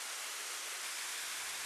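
Small waterfall pouring into a clear forest stream in the Peruvian Amazon, a steady broadband rush of falling water heard close and alone, with no voices.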